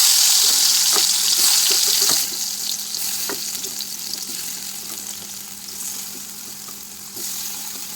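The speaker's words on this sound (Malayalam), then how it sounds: "ചൂടായി വന്നിട്ടുണ്ട്. അതിലേക്ക് നമുക്ക് പൊട്ടറ്റോ ഇട്ട് കൊടുക്കാം." Potatoes fry in hot oil for a Kerala-style potato fry, giving a steady bright sizzle with occasional soft clinks and stirring taps, close and continuous.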